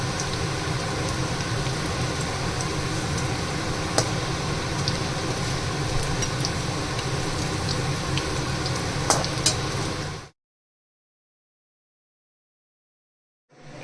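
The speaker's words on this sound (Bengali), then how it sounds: "তেলে দিয়ে দিয়েছি। এবার আস্তে আস্তে পেঁয়াজিটা হচ্ছে।" Onion pakoras bubble and crackle in hot oil over a low to medium flame, a close, steady sizzle with scattered pops that runs for about ten seconds, then cuts off into silence.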